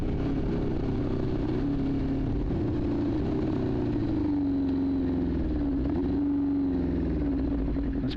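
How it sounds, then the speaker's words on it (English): A motorcycle engine runs steadily, then its pitch wavers and surges unevenly as the throttle is worked, a close, continuous drone with no talking. "This bike's all over the board though with the gas"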